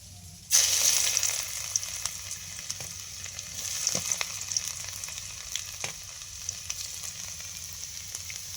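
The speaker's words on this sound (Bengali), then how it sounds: "এবার আমরা রসুন কুচি আদা কুচি তেলে দিব।" A sudden burst of sizzling as chopped garlic and ginger hit hot oil left from frying pakoras, then a steady crackling fry with occasional stirring clicks, close by.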